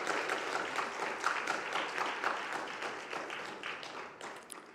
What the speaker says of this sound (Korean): 우리 다시 한번 모든 여전대 회원들, 임원분들을 위해서 감사의 박수 한번 합니다.